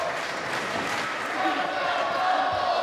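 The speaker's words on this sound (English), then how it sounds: "Listen to the crowd." Wrestling arena crowd: a broad, steady roar of many people filling the hall, swelling slightly toward the end, with a voice talking over it.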